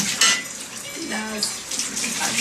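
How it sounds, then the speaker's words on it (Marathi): Dishes and small pots washed by hand at a sink, with running water splashing and a few light clinks of utensils in a short, close burst. "फर्स्ट टाईम तिने भांडे घासलेले आहेत"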